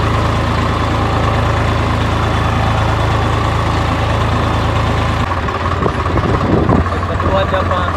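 A tractor engine idles and runs with a steady low diesel drone on a farm after puddling a paddy field, close and loud, with a voice talking over it and a shift in tone near the end.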